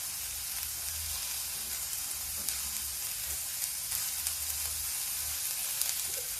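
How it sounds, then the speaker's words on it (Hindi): Milk poured into vegetables cooking in a pan, the pan giving off a steady soft sizzle and bubbling with faint stirring clinks. "इसको पकाने के लिए इसमें थोड़ा सा दूध डालते हैं"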